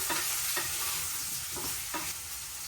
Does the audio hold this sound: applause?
no